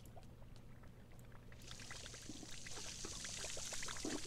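Water splashes and trickles from a toilet in The Sims 4, a steady pouring wash that swells in after a moment and continues softly over a low background hum.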